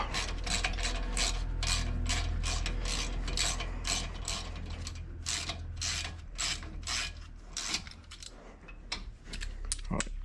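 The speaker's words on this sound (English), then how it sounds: "Undo the slider bolts." Ratchet wrench undoing the brake caliper slider bolts on a Nissan R32, a rapid run of loud close clicks in bursts with a few short pauses, against a low background hum.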